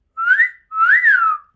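A person whistles two rising-and-falling wolf-whistle notes, the first short and the second long and sweeping, close and clear against silence.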